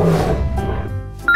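A lion gives a low, rumbling roar that fills the clip at fairly close range and trails off at the end, with a faint higher tone entering briefly.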